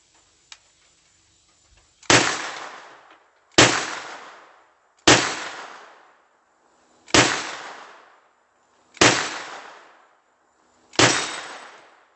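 Six loud gunshots fired at a target on an outdoor shooting range, evenly spaced about two seconds apart, each a sharp crack with a short fading echo; a faint click comes before the first shot.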